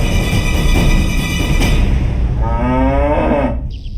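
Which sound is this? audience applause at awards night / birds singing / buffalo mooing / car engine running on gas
buffalo mooing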